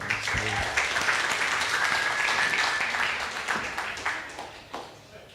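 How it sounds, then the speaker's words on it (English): At a developer event, an audience breaks into full applause that stays strong for several seconds, with a faint murmur and a brief tone underneath, then thins out and fades toward the end. "Just a round of applause to the team for that."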